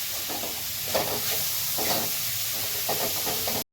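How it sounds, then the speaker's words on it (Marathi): Mixed vegetables sautéing in a pan with salt and spices, a continuous close hiss and sizzle with soft swells as they are turned, then an abrupt cut to silence; no voices. "ह्या आता भाज्या परतून झालेल्या आहेत"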